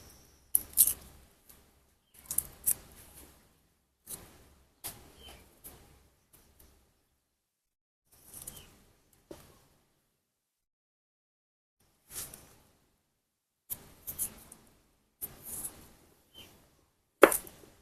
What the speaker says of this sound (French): Je vais hacher.